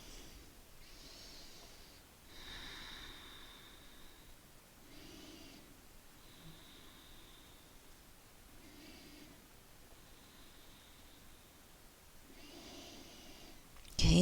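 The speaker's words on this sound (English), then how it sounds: "Don't be afraid to be a little noisy with your breathing" A person doing a beginner yoga stretch breathes audibly in slow, regular inhales and exhales, about six soft, airy breaths spaced a few seconds apart, faint and close in a quiet room.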